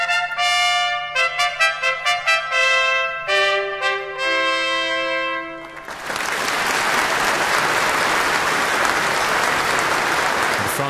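A large formal audience at the Nobel Prize award ceremony applauds Hiroshi Amano, a dense, sustained wave of clapping that swells in and holds loud and steady, preceded by a stretch of orchestral music.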